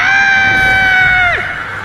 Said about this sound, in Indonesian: Daun teriak gara-gara nengok sosis Toby yang udah dimakan sama Kepiting